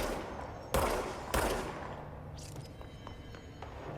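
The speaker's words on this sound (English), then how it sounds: "just hear explosions in the background" Two sharp explosions boom in quick succession in the video game Control, with a few fainter thuds and crackles trailing off afterward in a quiet, echoing space.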